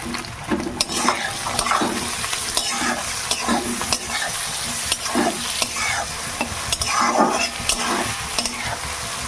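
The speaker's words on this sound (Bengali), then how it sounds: "এবার ডালগুলোকেও দিয়ে দেবো তেলের সঙ্গে ভালো করে পেঁয়াজের সঙ্গে ডালগুলোকে ভেজে নেব" Masoor lentils fry with onions in hot oil, giving a continuous sizzle with repeated scraping stirs of a utensil against the pan at an irregular rhythm, close and fairly loud.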